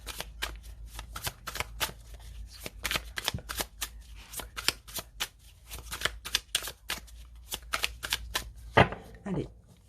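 Tarot cards shuffled and cut by hand, giving a dense run of quick, crisp riffling snaps close up, with a brief voice near the end.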